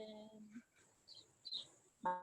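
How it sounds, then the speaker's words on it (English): Birds in a yard outside give a few faint, short, high chirps at scattered moments, with quiet human voice sounds in between. "There's like I would say birds and stuff chirping."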